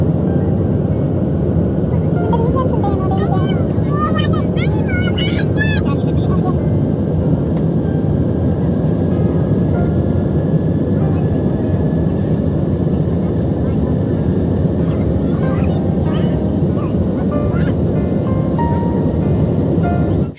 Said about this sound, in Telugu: ఫ్లైట్ టేక్ ఆఫ్ అయిపోయిందండి